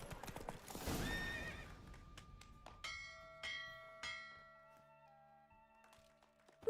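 In Red Dead Redemption 2, a horse gives a faint whinny over clip-clopping hooves, followed by a few separate clattering hoof strikes and a ringing bell-like tone, all quiet.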